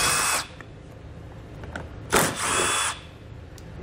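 A power tool zips out 10mm bolts beneath a 2017 Chrysler Pacifica, two short loud whirring bursts separated by a quieter pause.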